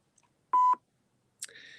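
A single telephone keypad DTMF tone beeps briefly on a voicemail menu, clean and isolated in near silence, followed moments later by a short click and a faint electronic hiss.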